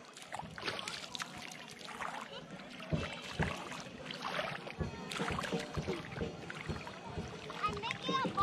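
Water splashes and sloshes close by in irregular bursts at a puddle on a sandy island shore, with voices talking and calling over it.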